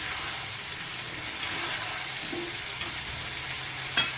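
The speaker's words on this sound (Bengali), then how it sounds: "এবার আদা বাটা, জিরের গুঁড়ো, হলুদ গুঁড়ো, লঙ্কার গুঁড়ো দিয়ে মশলা আলুটাকে ভালো করে কষাবো।" Potatoes fry in a pan with ginger paste and ground cumin, turmeric and chili while being stirred, a low continuous sizzle and hiss with a sharp scrape of the spatula near the end.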